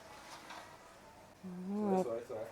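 Steady, hissy rain noise from a small speaker in a cheap vintage-style LED camping lantern fills the clip, with a voice talking in Thai over it in the second half.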